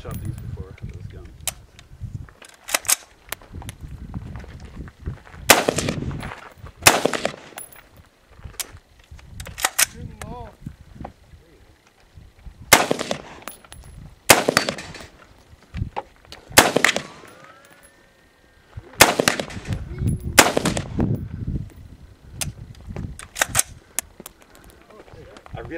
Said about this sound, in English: I haven't shot these before, this gun.